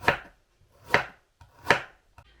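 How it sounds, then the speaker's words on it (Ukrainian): A knife slices carrots into thin rings on a cutting board, making three sharp, evenly spaced chops close by, with a fourth fainter tap at the end. "А моркву буду нарізати цілими кілечками"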